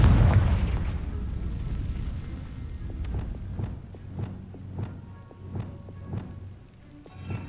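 Confringo fire spell explosion in Hogwarts Legacy, an opening heavy boom followed by a rhythmic series of smaller popping bursts and crackles at moderate level, with no talk.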